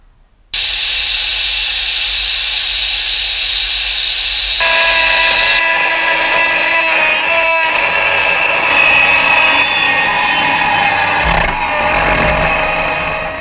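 Power tool grinding and cutting rust from the rear valance of a 1970 VW Camper bus, a loud continuous hissing, rasping roar that shifts in pitch as the cut changes, close up with no talk.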